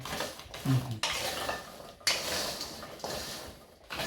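Chestnuts stir-roasted dry in a pan with no sand, tumbling and scraping against the metal in uneven bursts, with a couple of sharper knocks and a faint sizzle underneath.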